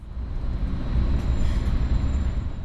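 A Caltrain electric train rolls through 22nd Street station, the only below-street-level stop on the line, giving a loud, steady rumble that echoes in the enclosed space.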